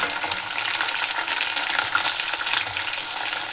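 Mustard seeds, onion and green chili fry in a hot pan, a close, continuous crackling sizzle with stirring, loud and steady throughout with no talking.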